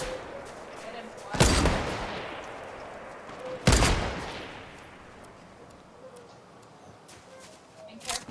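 Two loud, cracking sniper rifle shots ring out a couple of seconds apart in a Fortnite match, each trailing off in a long echoing tail, while players talk throughout.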